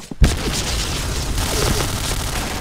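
A sharp, loud video game explosion goes off near the start, followed by a dense rumble of continuing gunfire and battle noise in the shooter game Point Blank.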